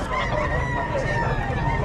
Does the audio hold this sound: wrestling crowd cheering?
no